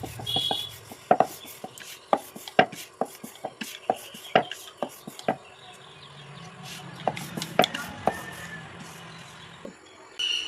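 Sharp knife strokes cut through thinly rolled nimki dough on a board, a steady run of crisp, close taps with short pauses, then a faster cluster of cuts later on, with no voices.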